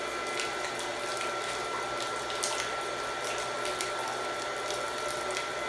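A PH7 reverse osmosis water system runs continuously, giving a steady broadband whoosh of flowing water and pump hum. The sound stays even and fairly close throughout, with a few faint clicks and no talk.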